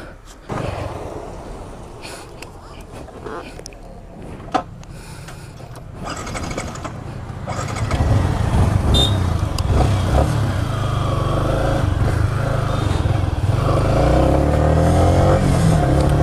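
A Yamaha R15 V3 sport motorcycle engine idles, then revs up into a loud, sustained roar with rising pitch, close to the listener.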